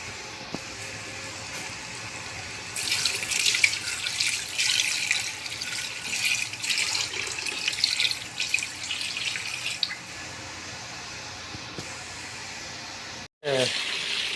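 Water runs steadily from a tap into a container, a continuous hissing gush lasting several seconds before stopping, with faint room noise around it.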